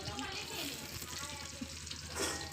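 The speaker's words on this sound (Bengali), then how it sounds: "এবার আলুগুলোকে আমি আস্তে আস্তে ভেজে নেব, লাল লাল করে ভাজবো" Potatoes fry slowly in hot oil with chillies, giving a steady broadband sizzle and hiss throughout with faint stirring, and no speech.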